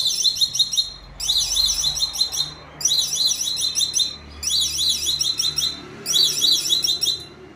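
A NeoBolt motorized wheelchair sounds its reverse safety warning: a loud electronic chirping beep pattern repeated in five regular bursts with short gaps, alone with a faint low hum underneath.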